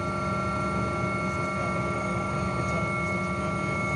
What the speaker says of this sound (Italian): Ecco il sopralluogo aereo dell'elicottero Drago 149 dei Vigili del Fuoco